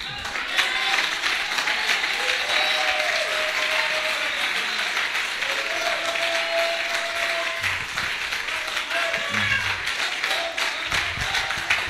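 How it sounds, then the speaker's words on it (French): Steady applause fills a church, a dense wash of clapping from the congregation lasting throughout, with faint voices mixed in. "Donnez une acclamation au Seigneur."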